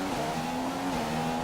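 A race car in the F1 2015 video game accelerates out of a corner, its engine tone climbing in a steady, sustained whine that dips briefly and rises again at close range.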